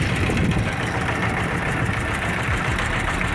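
A trawler boat's engine runs steadily while crossing a river, a loud, continuous low mechanical drone with a knocking throb that fills the whole stretch without pause.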